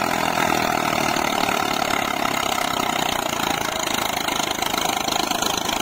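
An Eicher 485 tractor engine runs steadily under load while pulling a rotavator, a loud, continuous diesel drone with a knocking rhythm and no gaps, close by.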